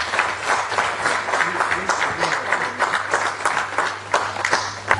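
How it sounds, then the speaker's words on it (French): Audience clapping for the president at an International Women's Rights Day event, a steady mass of hand claps at moderate level throughout, with a low steady hum underneath. "nous applaudissons très fort notre président"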